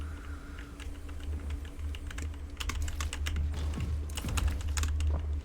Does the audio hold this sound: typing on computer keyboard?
yes